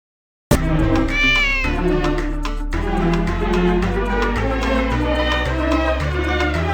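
A cat meows several times with a rising, drawn-out call, mixed into the steady backing music of a Hindi children's rhyme about a cat drinking milk, loud and continuous from start to finish.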